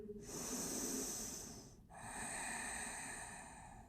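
Deep yoga breathing during a shoulder and hip joint session: two long, airy breaths drawn close to the microphone, separated by a brief pause, with no talking.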